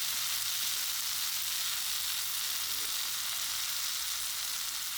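Tomatoes and spices sizzle and fry steadily in a pan for a soya chunks curry, a constant close hiss with no break and no voices.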